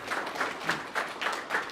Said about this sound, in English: Let's give it up a round of applause for Jurijs.